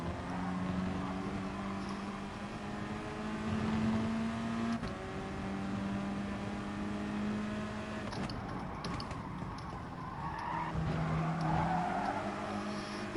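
Race cars in Gran Turismo Sport, several engines droning and rising in pitch as they run close together, a steady loud roar with brief shifts through the lap.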